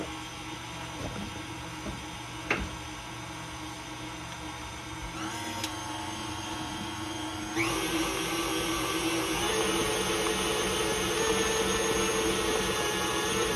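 An electric mixer whirs through pound cake batter flavored with pound cake and butternut extracts. It gives a steady motor drone with a few clicks and bumps, then shifts to a louder, brighter pitch partway through. No voices are heard.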